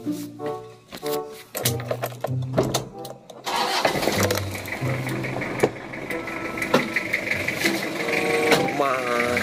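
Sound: Toyota Kijang diesel engine starting and running

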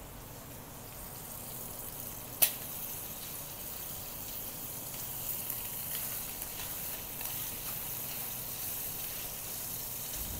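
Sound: chicken steak sizzling while frying in a pan

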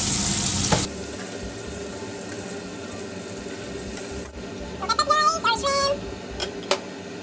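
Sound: shrimp frying in a pan

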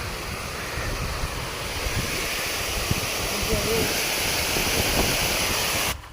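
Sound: strong wind outdoors by a forest stream

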